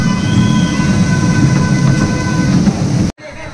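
A toy train runs at an amusement park, a loud steady rumble and clatter with a sustained horn tone, then it cuts off abruptly near the end.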